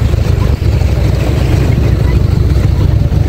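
A boat motor idling beside a small island in the Maldives, a loud steady low rumble that fills the whole moment with wind and water noise around it.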